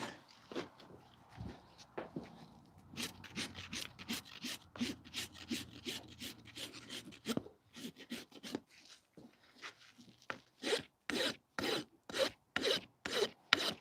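Livestock hoof being trimmed and shaped with a rasp, a run of rough scraping strokes that start soft and uneven, then become loud, regular and evenly paced close up, with faint handling noise between strokes.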